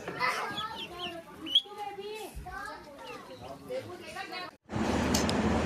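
Hens of exotic and rare breeds such as Brahma, American Silky and Sicilian Buttercup cluck and call at an interactive birds and animals park, mixed with busy chatter and children's voices, before a burst of broadband noise at the end.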